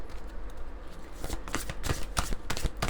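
Angel oracle cards being shuffled by hand in a series of quick riffling and sliding bursts, close and clear, with no voice.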